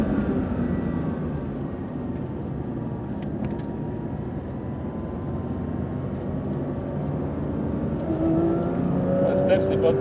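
A Porsche 992 GT3 RS is driven on a race circuit, its engine a steady muffled drone heard from inside the car, with people speaking over it throughout.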